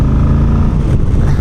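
A 2027 Moto Guzzi Stelvio motorcycle engine runs steadily close up, a loud continuous low throbbing rumble with vibrating character and no voices over it.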